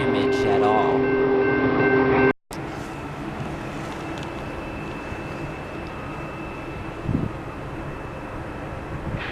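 Union Pacific 4014, a steam locomotive, departing in Kansas City. A loud, steady rumble of the train passing close by follows a tonal horn-like opening and a brief dropout, with a bell or whistle tone running through.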